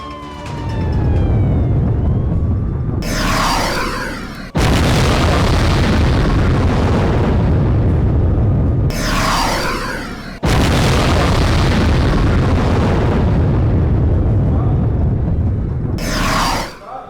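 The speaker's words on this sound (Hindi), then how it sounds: "हमले से ऑयल टैंकर में तेज विस्फोट हुआ है।" Loud, rumbling blasts from an exploding oil tanker roar in long waves, broken by sharp cuts between bursts, with a thick low-end boom and no voices.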